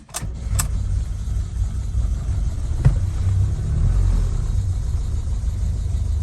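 A 1971 Lancia Fulvia Coupe, an Italian home-market car, starts cold on full choke in neutral: a quick crank catches, then the engine settles into a loud, steady idle rumble.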